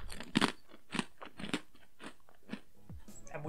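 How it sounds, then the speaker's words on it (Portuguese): A crispy Fruta Pocket fruit snack is crunched close to the microphone in a rapid series of sharp bites and chews, ending in softer rustling, with no talking over it. "Só pra vocês verem como é crocante, ó."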